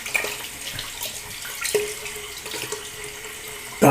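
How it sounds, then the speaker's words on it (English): A bathroom tap runs into a sink during a wet shave, a steady close hiss of flowing water with light splashing and clinks, swelling louder at the very end. "let me just get a bit of running water."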